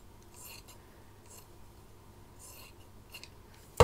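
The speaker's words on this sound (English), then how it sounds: "I can just trim the excess of those silk patterned fabrics" Scissors trimming excess silk patterned fabric for boho bunting, a few short crisp snips spaced apart, quiet and close, with a louder knock at the very end.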